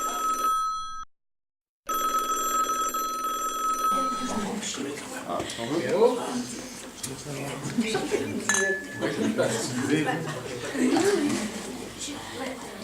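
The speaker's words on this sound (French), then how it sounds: "Ah, Ludo, il y a ton téléphone qui sonne." A telephone rings with a steady repeating bell tone at a lively gathering over clinking glasses and dishes, with people talking throughout.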